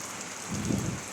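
Heavy rain falling steadily, a soft even hiss with a slight low swell partway through, no voices.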